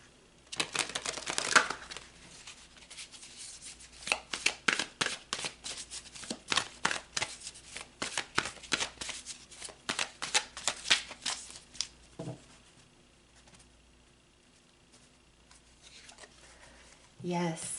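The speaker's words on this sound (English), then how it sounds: "So let's pull some more cards." Tarot cards being shuffled and pulled, heard as a long run of quick, close papery riffles and flicks that pause partway through and then resume briefly.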